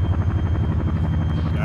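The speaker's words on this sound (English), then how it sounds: "I need to practice the Chinook a lot more" Chinook twin-rotor helicopter in a flight video game, its steady rapid rotor thumping loud and continuous throughout with a low engine drone.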